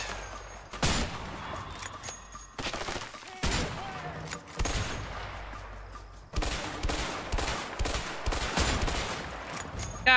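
Gunfire in the video game A Way Out, with repeated loud bursts of shots separated by short pauses, growing into a dense, rapid string of shots near the end, with a voice briefly heard.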